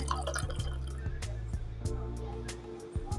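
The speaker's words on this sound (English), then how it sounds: "Take some flowers in a cup and fill it with water." Water is poured into a cup of dried flowers to make blue tea, with small drips and splashes landing close by at an irregular rhythm over a quiet, low background.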